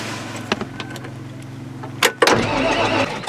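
A four-wheeler engine cranks in cold weather, a steady low churning that grinds for about two seconds, then a sharp clatter and a brief louder rev before settling into a rougher running sound close by.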